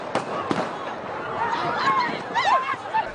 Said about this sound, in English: We got gunshots. We got gunshots,